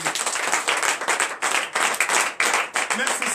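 A church congregation at morning prayer claps in acclamation, bursts of many hands in rhythmic waves with short pauses between, loud and close, with voices mixed in.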